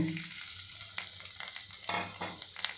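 Boiled, peeled potatoes frying with turmeric powder in a pan, giving a soft, steady sizzle with occasional stirring scrapes, fairly quiet and with no voices.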